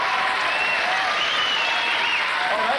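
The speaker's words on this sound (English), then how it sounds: "First round of applause" Loud, dense studio audience applause on a live comedy show, continuous and even across the whole stretch, with some cheering or voices mixed in.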